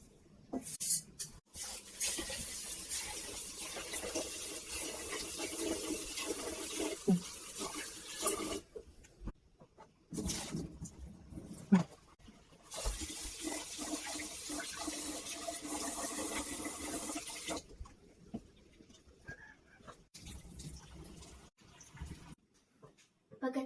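Rice being washed by hand in water before cooking in a rice cooker, with close sloshing and rinsing splashes in several bursts separated by quiet pauses, plus a louder pouring stretch near the end.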